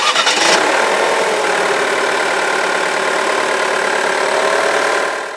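A Jeep Renegade Trailhawk 4x4 engine cranks briefly, then catches and settles into a steady, loud idle that continues without speech before fading slightly at the end.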